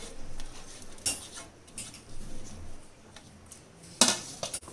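Mashed chokha is mixed with onion and coriander in a bowl, with quiet scraping and a few sharp clinks of a spoon against the dish, close and soft, without talk.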